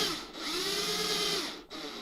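A power drill bores into wood with a bit wrapped in blue tape as a depth stop, giving a steady close whine that sags under load, then a brief dip and restart.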